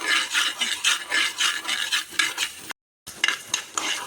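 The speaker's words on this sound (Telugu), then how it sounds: "చిట్చిట అంటున్నాయి చూడండి." Mustard seeds dry roasting on low heat in a pan crackle and splutter continuously in quick irregular pops, loud and close, with a brief gap mid-way.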